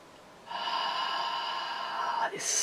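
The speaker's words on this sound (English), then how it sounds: "Breathing in." A person draws in a long, deep breath through the nose, a steady airy rush lasting about two seconds, close to the microphone, followed by a sharp hiss as it ends.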